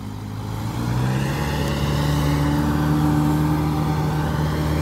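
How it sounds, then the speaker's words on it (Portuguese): A car rolls past nearby with a steady mid-pitched engine hum. The engine swells after the first second and stays loud and even, with a rising tone, to the end. "Olha aí, pessoal, passando aquele carro"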